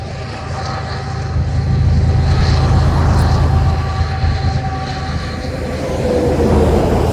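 A loaded Powder River Basin coal train rolls past in Wyoming as its DPU locomotive approaches: a loud, close, continuous rumble of wheels and cars with a deep engine drone swelling and easing.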